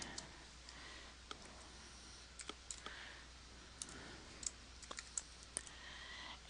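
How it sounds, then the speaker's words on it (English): Steady typing on a computer keyboard, with light, irregular clicking keystrokes close by over a faint background hum. "So I'm going to come back here and type"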